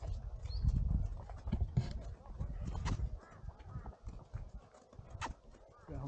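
Horse hooves clip-clop along a mountain trail near Pahalgam, irregular close thuds and knocks mixed with rustling and background activity, without clear speech.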